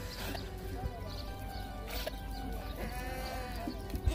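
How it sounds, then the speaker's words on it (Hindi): Goats bleat repeatedly in an open sandy area, with several wavering calls of moderate loudness, some overlapping, over faint background noise and a few footsteps. "आप लोगों को मैं दिखा रहा हूँ बकरी"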